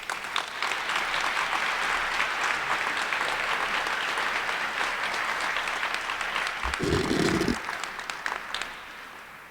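An audience applauds at a Columbia University postbaccalaureate premed class day ceremony, sustained loud clapping from a large crowd that swells near the end and then fades out.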